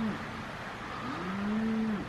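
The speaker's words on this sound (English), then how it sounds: "Never-ending mooing of cows" Cows mooing outdoors in the rain, one short low call followed by a longer drawn-out moo with a rising and falling pitch, fairly near and distinct over soft background noise.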